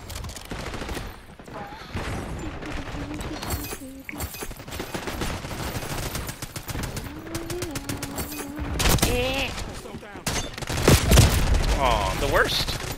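Gunfire in Call of Duty, with rapid bursts of shots and scattered single cracks over about thirteen seconds, growing louder toward the end, while a player talks over the action.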